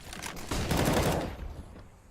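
Rapid gunfire bursts in the tactical shooter CS GO during a competitive match: a dense, loud volley starts about half a second in, swells, then fades.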